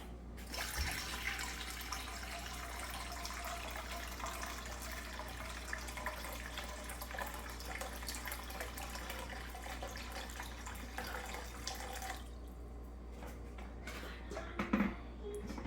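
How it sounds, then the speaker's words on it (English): Water runs steadily into a cooking pot for boiling pasta, a continuous close splashing pour that stops near the end, followed by a faint clink. "First, we have to pour a good amount of water inside the bowl."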